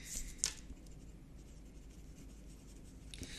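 A pen scratches softly on paper close by, giving a faint, quiet writing sound with a few brief strokes at the start.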